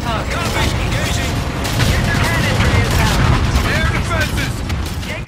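Warship guns firing on an enemy destroyer in Call of Duty: Infinite Warfare, a dense continuous barrage of booms and mechanical rattle with a radio voice speaking over the battle noise.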